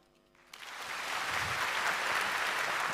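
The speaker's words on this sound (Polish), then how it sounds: "Ja będę tak i państwo wtedy klaszczą." An award ceremony audience at a national vocal competition breaks into rehearsed applause, many hands clapping steadily from a sudden start and holding at moderate volume, heard from within the hall.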